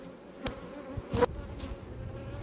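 Honey bees in an apiary droning in a low continuous hum, with a few sharp knocks and clunks from hive equipment cutting through, close and moderately loud with no talking.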